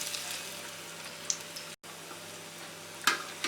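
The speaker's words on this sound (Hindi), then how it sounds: "स्लो गैस पे ही हम बोंडा को फ्राई करेंगे।" Potato bondas frying in hot oil over a low gas flame, giving a steady soft sizzle with faint crackles and one brief break in the sound midway.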